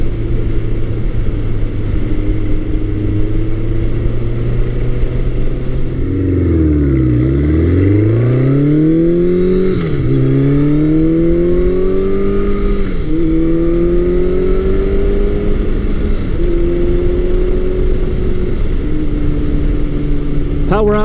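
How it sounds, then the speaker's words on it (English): A 1984-1986 Nighthawk 700S motorcycle engine revs up close, its pitch dipping and then climbing repeatedly through gear changes in smooth, rising sweeps over a steady engine drone. "Power output on the bike is very smooth and very linear. It just continues to build as the revs rise."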